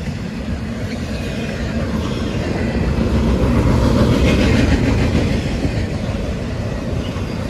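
A CSX F-166 freight train with a DPU rolls past at Depot Street in Berea, Ohio, a steady, loud, continuous rumble with rhythmic clickety-clack of wheels on rail joints, swelling slightly midway and holding close throughout.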